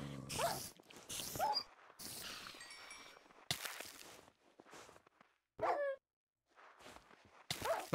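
Dogs in the Minecraft video game bark in short, sharp bursts separated by gaps, loud and close, with a few quieter scuffling sounds in between.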